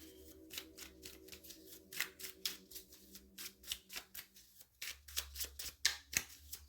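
Playing cards are dealt out one after another in a quick, fairly steady run of soft snapping flicks, close and quiet with no talking.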